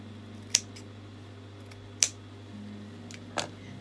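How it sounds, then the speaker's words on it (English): Scissors snip through fabric while trimming a circle skirt, with two crisp sharp cuts and a softer third, close and quiet against a low steady hum. "So all you need to do is just take a scissors and trim it off."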